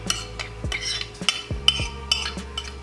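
A spoon scrapes leftover food from a bowl in quick strokes, with a few metallic clinks and rasping drags and a low thump or two, close by and with no voices.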